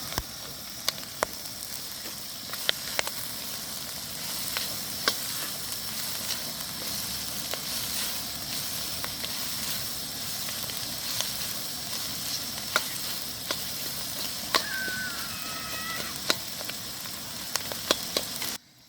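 Clam meat and onion frying in a pan, a steady continuous sizzle with occasional sharp clicks and stirring scrapes, close and loud.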